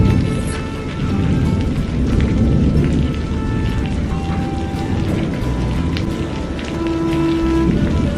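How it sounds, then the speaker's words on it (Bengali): Heavy, steady rain pours down in a cartoon scene at dusk, a dense continuous wash of drops close by that stays loud throughout, with faint thin crickets or insects chirping behind it and no voices. "চারিদিকে শুধু ঝিঝি পোকার আওয়াজ আর বৃষ্টি পড়ার ঝমঝম আওয়াজ"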